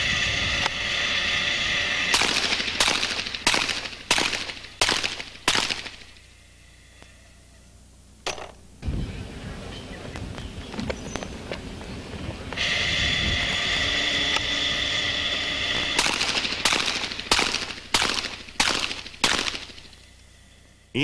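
Revolver gunshots at the 1990 NRA Bianchi Cup action pistol competition, two rapid strings of about six sharp cracks each, loud and close, separated by a quieter stretch of outdoor rumble.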